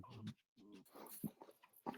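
A dog whimpers in a handful of short, close whining bursts separated by brief pauses, heard alone without talk.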